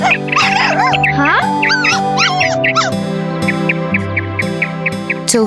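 An animated dog in a children's story whimpers and yips, giving high, wavering whines and short cries over a steady music bed. The calls repeat close and loud throughout, with no clear speech.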